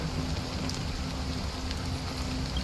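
Steady, loud rain pours without a break in a Honkai Star Rail cutscene, a dense hiss of drops over a low rumble, with no voices.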